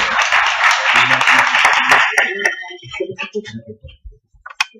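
Audience applause for a school at a conference on teaching digital entrepreneurship, a dense clatter of clapping that dies away after about two seconds into scattered noises and a voice talking.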